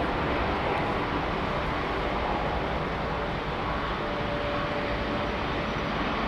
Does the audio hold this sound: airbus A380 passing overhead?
yes